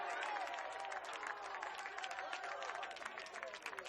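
Oakland Tech fans in the stands at a high school baseball championship game cheer and clap after their team scores on a home run, a steady dense roar of crowd noise with scattered claps and shouts throughout.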